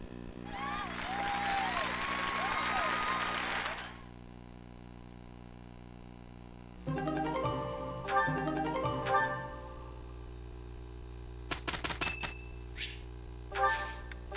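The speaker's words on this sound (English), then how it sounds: "Once more, please give a big round of applause for our talented participants." Applause for the participants in Fire Emblem: Three Houses plays as a dense, crowd-like clatter for about four seconds, followed by tinkling chimes and game music.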